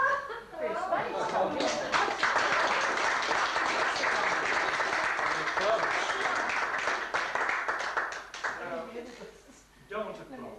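An audience at a Christmas in July fundraising party applauds a card trick, a dense, sustained burst of clapping mixed with chuckles and chatter that fades out and is followed by a little laughter.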